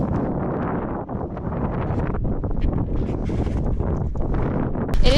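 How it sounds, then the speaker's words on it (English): Strong wind buffets the microphone in a constant loud roar over open snowy ice by a large body of water, with gusty rumbling and no clear voices. "It is really windy"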